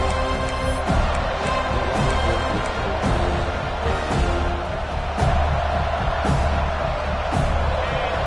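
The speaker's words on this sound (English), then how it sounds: "Decibels rising as the crowd gets behind this defense on third down." Crowd roar in an American football video game during a third-down defensive stand, a dense, steady, loud wash of stadium noise with faint thumps and no clear rise.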